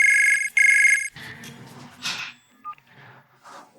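Telephone keypad dialing tones sound in two steady beeping bursts, loud and close, followed by brief ringing-line and electronic blips before a call connects.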